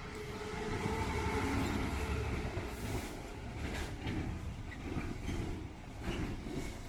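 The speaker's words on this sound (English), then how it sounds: "The train you can see coming along now is one of those freight trains that I mentioned earlier" A freight train coming from Thames Gateway rolls past on the line near Barking Riverside, a steady loud rumble of wagons with rhythmic wheel clatter that holds throughout and swells slightly at times.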